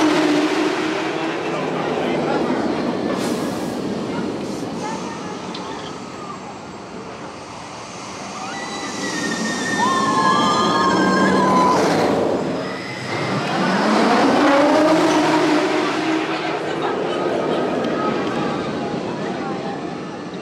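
The Red Force roller coaster at Ferrari Land in PortAventura World gives a rushing, rumbling roar that swells and fades, peaking near the middle and again toward the end, with voices faintly mixed in.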